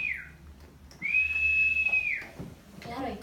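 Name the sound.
person imitating a whistle signal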